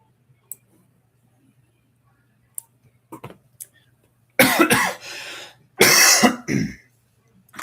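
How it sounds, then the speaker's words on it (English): A person coughs and clears their throat, first a few faint clicks and small throat sounds, then two loud, harsh bursts of coughing close to the microphone. "Got a little bit of a cough today."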